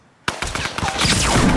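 Rapid automatic gunfire from the video game Fortnite bursts in abruptly after a brief quiet and continues as loud, dense overlapping shots for over a second.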